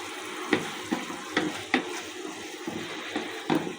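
Ginger-garlic spice paste being sautéed and stirred in a pan for a meat curry of beef, chicken, pigeon and heron, a steady close sizzle with repeated scraping stirs roughly every half second, no talking.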